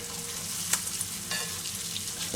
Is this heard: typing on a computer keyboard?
no